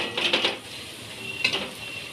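Masala being sautéed in a pan, heard as a soft background sizzle with two quick clusters of metallic clinks from a spoon scraping and tapping the pan.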